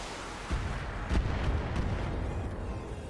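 Shotgun fire from a mech in the BattleTech video game, a low heavy booming blast followed by a couple of softer rumbling impacts over a constant dull background.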